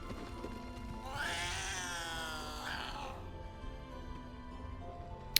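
A cat in the video game Baldur's Gate 3 gives a long drawn-out meow, rising and wavering over about two seconds, fairly close and clear over faint background game sound.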